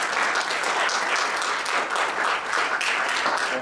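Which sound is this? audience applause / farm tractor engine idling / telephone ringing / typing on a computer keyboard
audience applause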